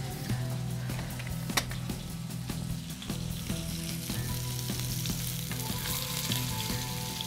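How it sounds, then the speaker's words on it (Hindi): Chicken chullu kabab sizzles steadily as it fries in a pan, with a constant close hiss and occasional scrapes and taps of a utensil stirring. "बहुत जल्दी देखें ये फ्राई हो रही है।"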